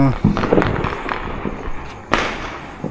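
Diwali night fireworks and firecrackers in Punjab give scattered crackling pops and one sharp bang, heard at a moderate distance while people talk over them.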